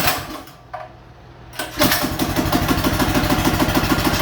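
A minibike engine cold-starts with no choke, catching about a second and a half in, then settles into a steady, close, rapid idle with a straight pipe and an even putter.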